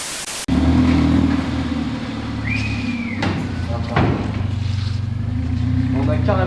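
The engine of an A45 AMG car in a tuning workshop revs and drones loudly up close after an abrupt start, with a brief squeal and a few sharp knocks over the steady roar.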